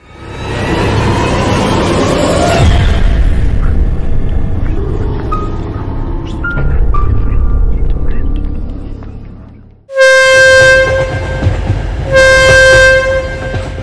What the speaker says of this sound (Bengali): ট্রেনের হঠাৎ ঝাঁকুনিতে ঘুম ভেঙে গেল অরুণের।